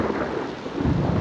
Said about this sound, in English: it's raining very hard now